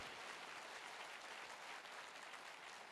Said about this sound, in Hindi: मैं चाहूंगा जोरदार तालियां हो हमारे गुरुजनों के लिए।